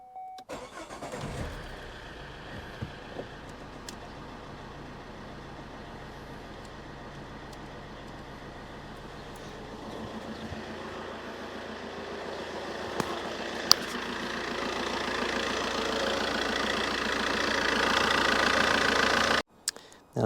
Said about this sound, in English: Okay, now it's time to start the engine and put the aircon on the coldest setting.